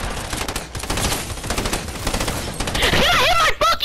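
Rapid bursts of automatic gunfire from the Fortnite video game fill the whole stretch, loud and dense, with a sharper flurry of shots and ricochet-like whines near the end.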